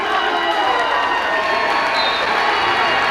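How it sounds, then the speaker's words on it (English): A Spartan home crowd at a school wrestling match roars and cheers loudly in a dense, continuous wash of voices filling the gym. "That gets the Spartan crowd riled up."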